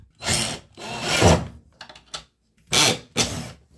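Star-bit screws being driven into a replacement Whirlpool washer door handle, close up: several bursts of whirring and grinding from the driver, a long first run, short ticks, then two final quick bursts with silent gaps between.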